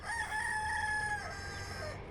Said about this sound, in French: Le coq fait savoir qu'il est là aussi.